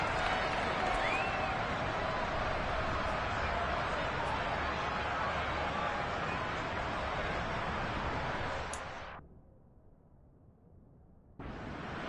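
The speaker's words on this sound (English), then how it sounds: "Plenty of shouts from this crowd as they watch the replay" A stadium crowd in an American football video game on PS5 or PS4 roars in a loud, steady wash of shouting that cuts off abruptly for a few seconds near the end, then swells back in.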